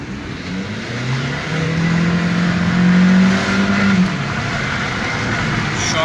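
An Audi TFSI turbo car revs hard climbing a steep mountain ramp, a loud sustained engine roar rising in pitch and swelling to a peak before easing off, close and continuous with no talk.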